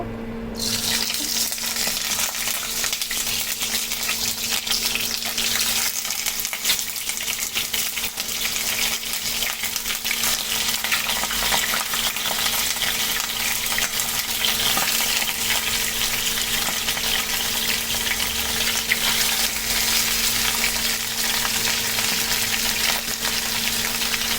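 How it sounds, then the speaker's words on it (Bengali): Fish heads sizzle and spit in hot mustard oil, a steady dense frying hiss that fills the whole stretch without letup, with faint stirring or water noise underneath. "সরিষার তেল গরম হয়ে গেছে। এখন আমি একে একে মাছের মাথাগুলো দিয়ে দেব।"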